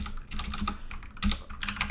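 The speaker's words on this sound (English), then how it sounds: "Since I'm typing terribly right now, my goodness." Rapid, continuous typing on a computer keyboard close to the microphone, with dense clusters of key clacks broken by brief pauses and no voices.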